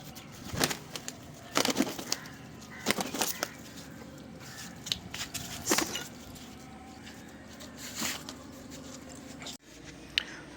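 A ground roller pigeon in a loft in Tirunelveli, with scattered bursts of wing flapping and soft cooing, moderately close, standing alone without any speech.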